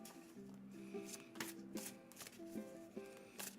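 Tarot cards are shuffled by hand in a series of quick riffles and soft slaps, several bursts in an uneven rhythm, close and fairly quiet with no talking.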